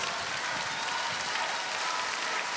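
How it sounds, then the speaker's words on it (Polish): Sustained applause from the audience at the Miss Polski 2009 pageant, a dense, even roar of clapping with no break. "Ogromne brawa do naszych dziewcząt."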